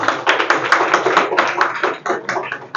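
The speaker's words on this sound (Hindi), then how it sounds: "हमारे सीनियर के लिए एक बार जोरदार ताली हो जाए" Close, uneven clapping from a small group at a company meeting, distinct sharp claps in bursts and irregular rhythm, with some voices mixed in at times.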